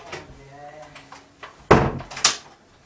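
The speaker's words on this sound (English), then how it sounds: "let's just close the door." A door is pulled shut indoors with a sharp, loud thud at close range, followed by a second knock or rattle, after a stretch of quiet room noise.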